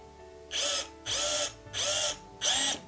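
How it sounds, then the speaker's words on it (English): Four short bursts of a power drill whirring up and stopping while drilling into bamboo, evenly spaced, close by with no talking. "I'm going to drill into that stuff"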